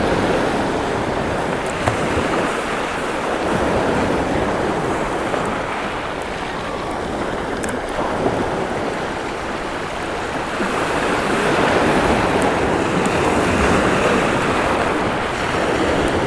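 Sea waves wash steadily onto a beach on England's east coast on a fine day, a continuous broad surf roar with gentle swells in loudness and some wind across the microphone.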